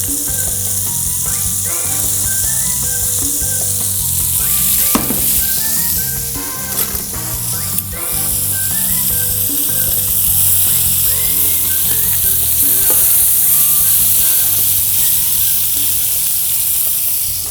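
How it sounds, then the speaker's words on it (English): Cipollini onion and mushroom searing in a hot pan for a veal chop with mushroom cream sauce, a loud continuous sizzle and hiss with occasional sharp clinks and scrapes, with music playing underneath. "The cipollini onion is starting to caramelize. My mushroom is searing."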